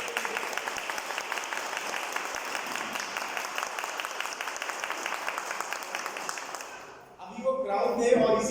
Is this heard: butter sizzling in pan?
no